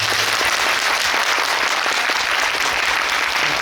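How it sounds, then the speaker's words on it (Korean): Audience at a Korean film screening and guest talk applauds steadily and loudly, a dense, even wash of clapping from a crowd lasting the whole stretch with no voices over it. "오늘 수고해주신 우리 통역사님께도 박수 부탁드리겠습니다"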